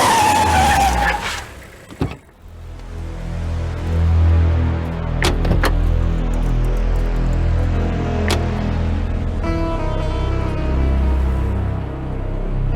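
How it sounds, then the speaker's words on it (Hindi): A car overtaking at speed during a movie chase, with a loud engine drone running throughout and brief sharp skid and impact-like transients, no talk heard. "ड्राइवर, गाड़ी को ओवरटेक करो।"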